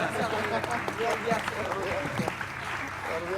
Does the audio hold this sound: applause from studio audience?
yes